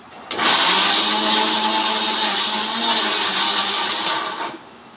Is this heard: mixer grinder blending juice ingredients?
yes